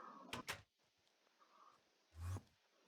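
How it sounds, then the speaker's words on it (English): In Minecraft, a door is shut inside a zombie-trap base with a quick pair of wooden clacks. A heavier thump follows about two seconds later, and the room is otherwise nearly silent. "Shut the door."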